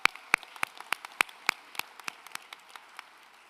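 A few people clap for teachers at a high school graduation, sparse separate claps with a steady rhythm that slowly fade, fairly near and alone without voices.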